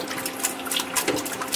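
Running tap water rinses pork small intestines in a kitchen, a steady close splashing gush with fluctuating spatter as the water strikes the intestines, and no voices.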